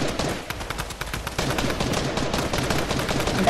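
Rapid gunfire from a Fortnite match, dense overlapping shots crackling steadily and close for the whole stretch, with a brief dip before the barrage picks up again.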